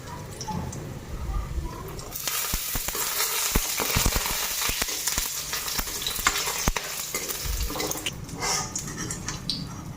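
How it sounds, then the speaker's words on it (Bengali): Lentil dumplings (bori) drop into hot oil and fry with a bright, dense sizzle that swells after the first couple of seconds, broken by sharp clacks and scrapes of stirring close by. "ওইদিকে আমার তেলটা গরম হয়ে গেছে, এই যে বড়িগুলি দিয়ে দিলাম"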